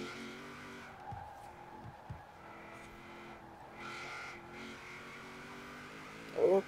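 A 2015 Chevrolet Camaro Z/28 races in Forza Horizon 4, its engine holding a steady, droning note with brief tire squeals as it nears the edge of the track. A sharper burst comes right at the end.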